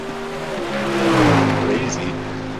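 Several GT3 race cars lapping Spa in the iRacing sim, engines droning with rising and falling pitch as cars sweep past, peaking midway, under a steady background of voices chatting.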